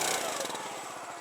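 Small engine on a CountryLine 25 ton log splitter running at full throttle, a steady buzzing drone with a rapid pulsing rhythm, close and moderately loud with no talking.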